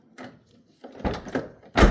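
Unlocking of a 2001–2005 Honda Civic door after a lock actuator replacement: a quiet click, then a couple of firm latch clunks and a final loud thunk, heard up close with no voices.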